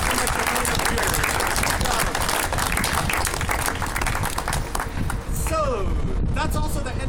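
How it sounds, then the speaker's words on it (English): A tour group applauds actors in a lively burst of close, dense clapping, with voices talking over it and the clapping thinning out toward the end. "Let's have a round of applause for our great actors here."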